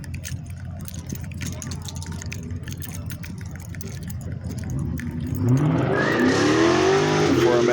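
A Mercedes 4MATIC drives past on a city street around midnight, its engine swelling and revving up sharply as it nears after a stretch of steady background traffic rumble.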